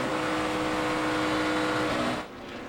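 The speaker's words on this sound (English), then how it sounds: "you could hear it was either Cole Whitt or Danica Patrick getting out of the throttle" A NASCAR Nationwide Series stock car at the 2012 DRIVE4COPD 300 practice lifts off the throttle, a steady engine drone holding then dropping away sharply near the end.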